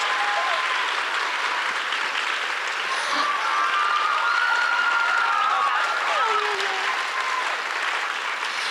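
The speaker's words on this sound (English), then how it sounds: "great big round of applause" Steady, dense applause from a large audience at a ballet awards ceremony, sustained and fairly loud throughout, with faint cheering and crowd murmur mixed in.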